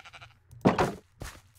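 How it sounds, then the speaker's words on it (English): Sheep from the Minecraft video game bleat close by, first a long wavering bleat and then a shorter one, with no talk over them. "Come here, sheepy. Good, sheepy."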